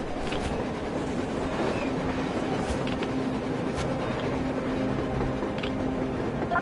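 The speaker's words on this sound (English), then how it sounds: "A train! A damn train on the surface!" A train rolls along on the surface in a post-apocalyptic video game, a continuous broad rumble with faint rhythmic clatter and a steady low drone holding throughout.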